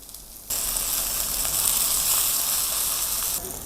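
Fatty pork belly sizzles and spits in a non-stick frying pan, a loud steady hiss that starts abruptly, holds close and even, then drops back at the end.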